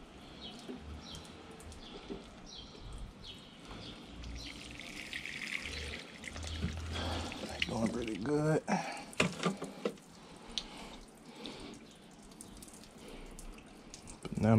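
Garden plants being watered among lettuce and banana peppers, with water splashing and dripping in bursts, louder toward the middle, alongside talking and a few bird calls.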